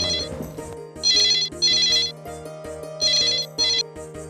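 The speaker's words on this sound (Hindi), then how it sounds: "फोन की घंटी बज रही" A telephone rings with a bright electronic trill in repeated bursts over a steady pulsing tune, loud and close with no talking.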